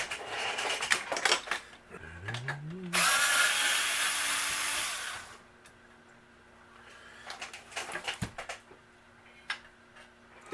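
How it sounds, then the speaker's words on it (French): Electric screwdriver whirring in short bursts as a transistor is unscrewed from a Denon AVR-891 amplifier, then a sustained loud buzzing run of a few seconds followed by faint clicks and handling taps. "Maintenant, on va le dévisser de là."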